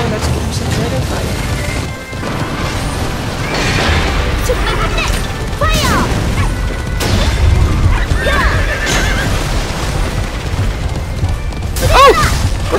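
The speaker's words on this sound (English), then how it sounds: "Oh, let's give him some dragon fire." A dragon fire attack in the Alicia Online horse racing game, with booming whooshes and bursts under excited talk, plus several horse whinnies rising through the busy game sounds.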